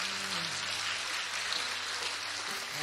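An audience claps for the contestants at the 2014 Miss Strassenfest pageant, a continuous, even rush of hand claps heard at a moderate distance, with a faint low hum underneath.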